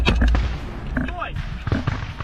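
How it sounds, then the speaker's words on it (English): Suppressive fire from the 30mm cannon of a Russian M1981 vehicle during a trench assault, heard as a few sharp, booming bursts amid dense, noisy battlefield clatter. "A Russian M1981 with a 30mm cannon begins suppressive fire."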